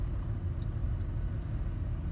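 Inside a parked car waiting outside a store, a steady low rumble, likely the idling engine, fills the cabin evenly with no other clear sounds.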